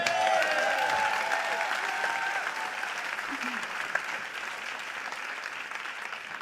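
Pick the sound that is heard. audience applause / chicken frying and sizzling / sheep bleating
audience applause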